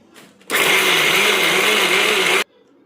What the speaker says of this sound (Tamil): இது வந்து இப்போ பச்சை பயிறு மிக்சியில் போட்டு அடித்து குழி பணியாரம் செய்ய போகிறேன்.